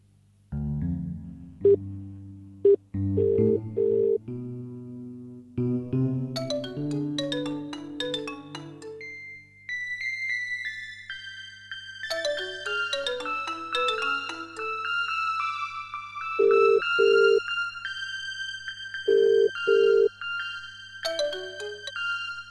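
A mobile phone ringtone plays a long melodic tune as a call is placed, clear and close with no talk over it, running for about twenty seconds.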